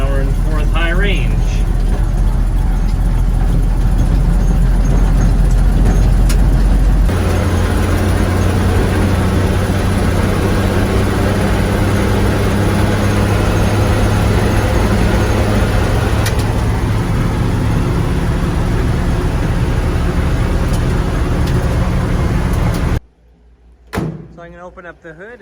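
A 1948 REO Speed Wagon truck drives in fourth gear, high range, its engine droning steadily with a shift in pitch early on, a voice talking over it, until the sound cuts off abruptly near the end.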